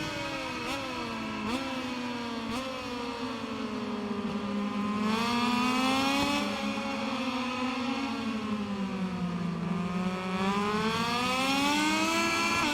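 A Moto2 racing motorcycle engine at Silverstone in MotoGP 21, rear tyre lacking grip, winds up and drops back through repeated gear changes, a loud, close high-pitched whine rising and falling alone for the whole stretch.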